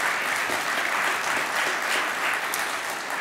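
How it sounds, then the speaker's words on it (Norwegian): Sustained audience applause fills a political conference hall, a steady dense wash of clapping from a large crowd with no voices over it. "Ja, det er verdt en applaus"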